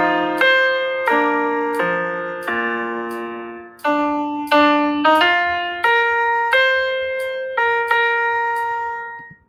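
Exported GarageBand choral rehearsal mix plays a series of clear sustained piano-like chords with sharp attacks and slow decays, about a dozen struck in steady succession, loud and close, with no voices talking.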